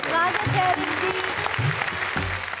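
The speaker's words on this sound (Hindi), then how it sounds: "जरा जोरदार तालियां बजाएं" An audience at a televised Hindi poetry and comedy stage show claps in loud, steady applause, with a voice talking over it.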